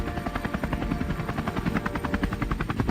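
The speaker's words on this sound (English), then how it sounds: "hunting boars by helicopter" A helicopter flies close by during a wild boar hunt from the air, its rotor chopping in a rapid, steady rhythm over a constant engine drone.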